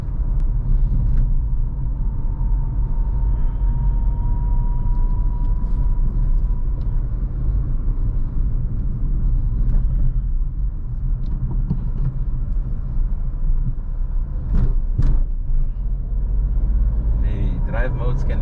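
Renault Kiger car engine accelerating on the road, a steady low cabin rumble with road noise and a faint whine, heard from inside beneath people talking.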